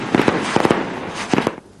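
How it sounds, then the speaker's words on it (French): Firecrackers go off in loud, close bursts of sharp cracking pops. They come in several clustered volleys, each a rapid crackling pair or triple, separated by brief pauses. "Ne faire exploser que les pétards autorisés, le faire le plus loin possible des personnes et des biens"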